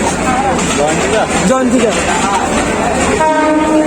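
A train rumbles past with a steady roar, and a horn sounds toward the end, while people talk nearby.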